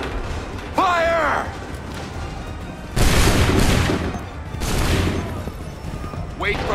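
Musket volleys crack out in the video game Assassin's Creed III, with a loud burst of massed gunfire followed by a second rolling volley, shouted voices heard between the shots.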